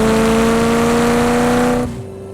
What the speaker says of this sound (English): I'm driving a 1989 Ferrari F40.